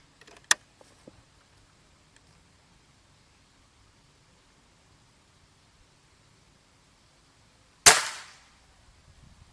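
Gorila X2 air rifle fitted with a power plenum fires a single sharp, loud shot near the end of a quiet stretch, with a fainter click near the start.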